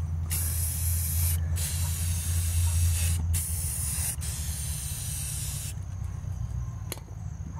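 Spray paint hisses in long continuous bursts onto water for hydro dipping, broken by a few brief pauses, close and steady with a low hum beneath.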